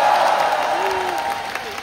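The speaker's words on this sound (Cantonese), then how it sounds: "不如俾一次掌聲我哋嘅成員好唔好啊？" An audience at a T-ara fan meeting in Hong Kong applauds the group members, a dense wash of clapping that fades slightly, with a faint tonal voice-like line running through it.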